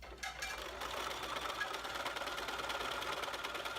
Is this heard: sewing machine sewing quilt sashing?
yes